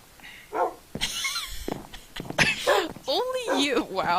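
A Minecraft dog barks and yips in short bursts while players talk excitedly over it in a video game session.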